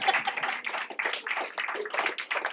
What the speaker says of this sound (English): let's give Karen applause